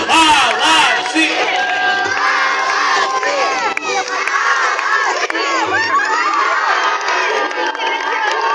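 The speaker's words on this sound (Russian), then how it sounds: "Еще раз бурные аплодисменты. Громче, громче, громче." A large crowd at a town birthday celebration with a fire show cheers, shouts and whistles loudly and continuously, with children's voices among the roar.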